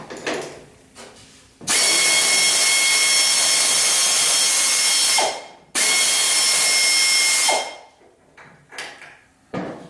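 Power tool backing out a rear crash bumper bolt on a 1976 Corvette: two long loud sustained whirring runs, each a few seconds, with brief clunks between, close and dominant.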